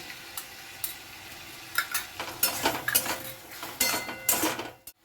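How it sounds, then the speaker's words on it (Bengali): Prawns are stirred in a pan with garlic, chilli, capsicum and onion: sharp metal spoon clinks and scrapes against the pan come in irregular bursts over a low sizzle, then stop abruptly. "আবার একটুখানি নেড়ে নেব।"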